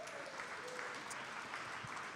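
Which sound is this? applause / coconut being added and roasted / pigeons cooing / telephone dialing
applause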